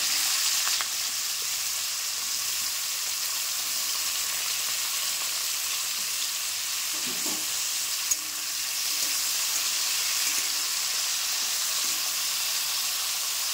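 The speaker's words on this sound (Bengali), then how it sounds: "আমি যে আলুটা একটু নুন মাখিয়ে রেখেছিলাম, আমি এতে হলুদ দিচ্ছি না, তো আমি জাস্ট নুন মাখিয়ে রেখেছিলাম, এটা আলুটা ভেজে নেব।" Salted potatoes fry in hot oil in a wok, giving a steady, dense sizzle that stays loud and even throughout, with only a faint stir now and then and no talking.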